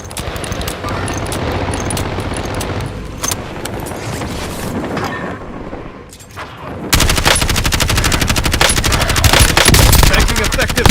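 Gunfire in the battle royale game Call of Duty Warzone, with a loud, continuous rattle of rapid automatic shots that grows denser and heavier in the second half.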